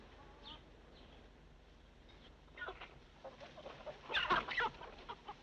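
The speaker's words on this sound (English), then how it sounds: "It's always good to have a few chickens on a reception committee, ain't it?" Several chickens cluck at a farm homestead, small scattered calls at first, then a louder, busier burst of clucking and fowl chatter near the end.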